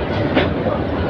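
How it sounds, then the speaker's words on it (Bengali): Bolaka Commuter train pulling out of Gafargaon railway station, a steady broadband rumble of rolling stock close by, with a brief rise in noise partway through. "বলকা commuter train Gafargaon rail station থেকে ছেড়ে যাচ্ছে।"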